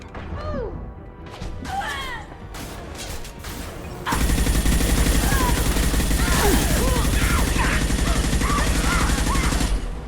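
Sustained heavy gunfire in Mass Effect 2 as a full magazine is emptied into a Krogan: loud, continuous rattling bursts and impacts mixed with game effects and voice chatter.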